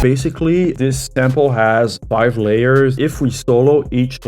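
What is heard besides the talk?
No everyday noise stands out behind the speech.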